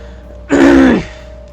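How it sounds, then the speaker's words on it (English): One loud, close throat clearing, a rough voiced rasp lasting about half a second against a quiet background. "I'm just gonna kind of clear my throat"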